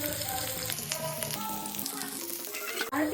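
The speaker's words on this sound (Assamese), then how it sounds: "তেল গৰম হোৱাৰ পিছত মানে কেইটামান জিৰা দি দিছোঁ" A few cumin seeds sizzle in hot oil in a pan, a steady close crackle with a brief clatter and a sudden drop near the end.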